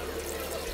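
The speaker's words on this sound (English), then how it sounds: "now I'm just gonna wash it off with water" Water runs and splashes steadily while a face is rinsed clean after cleansing, a close, even wash of liquid noise with no talking.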